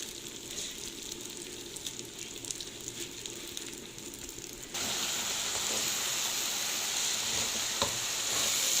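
Rice and orzo stir-fried in a pot, first with a softer sizzle and light scraping, then a sudden jump to a loud, steady frying hiss with occasional stirring knocks.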